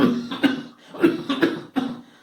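A voice imitates a loud cough, with several harsh, rough bursts in quick succession, close and alone.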